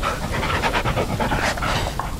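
A dog in the Blair Witch VR video game pants close up in quick, continuous breathy rhythm, loud and steady throughout with no speech over it.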